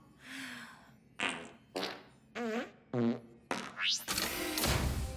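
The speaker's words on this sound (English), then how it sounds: "You'll have to fart your way through the whole spectrum." A run of six or seven short fart sounds, each a distinct burst with a rising or wobbling pitch, ending in a longer, noisier blast, loud and close with no talk over them.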